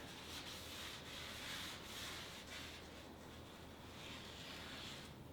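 A rag rubs and wipes steadily across the oily skid plate of a KTM 525xc dirt bike, a soft continuous scuffing texture, quiet and close, with no talking.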